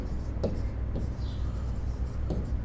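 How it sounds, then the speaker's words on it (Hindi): Chalk or marker strokes writing a sentence on a board during an English grammar lesson, giving soft, faint scratchy taps at intervals over a low steady room hum. "तो एक और सेंटेंस लिखता हूं मैं आपके लिए।"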